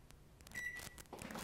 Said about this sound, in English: Oh, I've got to shut my microwave off.